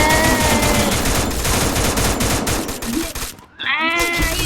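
Dense bursts of video game gunfire from attacking enemies fill the first three seconds, loud and rapid like machine-gun volleys, then a brief gap and further game effects.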